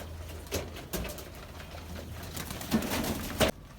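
Low, soft cooing from pet pigeons on a rooftop, faint and close, with a few sharp knocks and scuffs scattered through and a quiet background.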